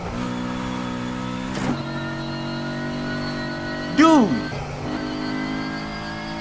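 In the racing game Need for Speed Heat, a Nissan Skyline's engine idles with a steady harmonic hum and then rises sharply in a brief, loud rev before settling, while someone talks over it.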